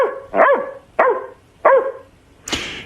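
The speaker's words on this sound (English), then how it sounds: "only one bark" A dog barks three times in a steady, evenly spaced rhythm, each bark loud and close, followed by a brief noisy burst.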